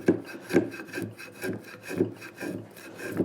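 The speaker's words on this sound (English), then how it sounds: "bring the plane the other way and work the same way" A hand plane works along wood in repeated rhythmic strokes, each a close rasping swish, about seven passes at a steady pace with no talking.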